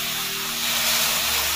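Ginger-garlic paste and ground whole spices fry in a pan for egg masala curry, a steady loud hissing sizzle that swells slightly and runs unbroken, close up with no voices.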